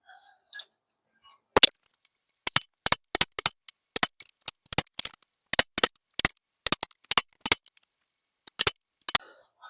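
A mini bike metal fender being hammered with a fuller and chisel: bursts of sharp, bright metallic taps in quick clusters separated by pauses, close and crisp against a silent background.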